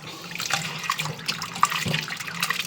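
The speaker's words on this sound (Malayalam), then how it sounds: "കൂടുതൽ വെള്ളം ഒഴിച്ചിങ്ങനെ അലമ്പി കഴുകിയെടുക്കണം" Running tap water splashes over boiled cauliflower as it is rinsed by hand, a steady close gush with irregular sloshing bursts and no talk.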